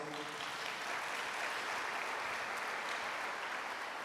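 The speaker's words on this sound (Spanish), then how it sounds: "La verdad, un aplauso para los hombres." Congregation at a Christian sermon applauding the men, a steady dense wash of clapping from a crowd that holds evenly throughout.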